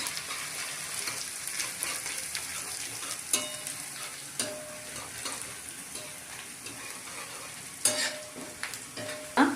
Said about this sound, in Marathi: कांदा छान भाजून झालाय, कांदा आणि लसूण